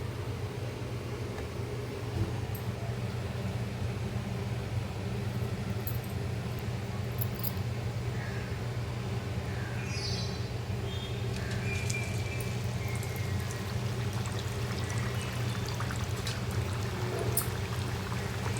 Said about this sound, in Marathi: आता आपलं तेल पण गरम झालेलं आहे आपण तळून घेऊया